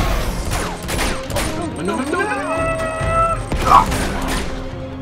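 Gunfire crackles in Uncharted 2: Among Thieves Remastered during an urban warfare fight: repeated close shots and a rising whine, with someone shouting over the action.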